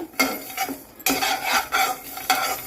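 Peanuts and sesame seeds stirred in a hot dry pan while making a mint spice powder, several sharp scraping strokes of a spatula against metal with a faint rattle of seeds.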